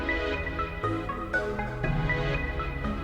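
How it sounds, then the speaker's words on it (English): A bright, bell-like FM synthesizer in UVI Falcon 2 plays a quick run of glassy, metallic notes over a dense electronic backing, steady and fairly loud. "and then this FM sound."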